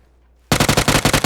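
A sudden burst of rapid automatic gunfire in PUBG erupts after near silence, a loud rattling string of about a dozen close shots.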